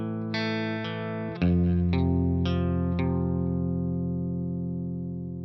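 Distorted electric guitar plays a riff, a few picked notes building into heavy, sustained open-string chords with effects and reverb, ringing out alone and slowly decaying.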